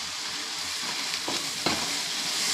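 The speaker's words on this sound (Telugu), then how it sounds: "ఇది బాగా వేగించుకోవాలి" Onion, ginger-garlic paste and tomato fry in a pan with a close, steady sizzle, broken by a couple of brief stirring scrapes.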